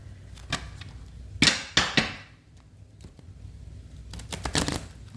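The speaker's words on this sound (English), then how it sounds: "Let me just shuffle these cards at least 3 times to get your clarifiers for these two negative cards." A large, new tarot deck being shuffled by hand: a few separate bursts of riffling, rattling card noise, with the two loudest in the middle and a clustered patter near the end, close and fairly quiet, with no talking.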